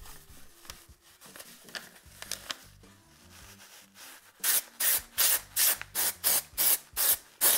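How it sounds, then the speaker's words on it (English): An aerosol can of temporary copper hair color sprays onto locs in a rapid run of short, sharp hissing bursts, about ten in quick succession, preceded by quieter rustling and handling noises. "I'm just out here spraying."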